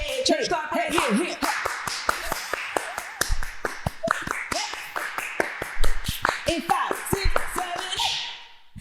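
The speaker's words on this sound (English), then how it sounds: "Hey, church clap." A small group of women claps along in rhythm during a podcast recording, a church-style clap with sharp, close handclaps in quick succession, mixed with cheering voices and chatter throughout.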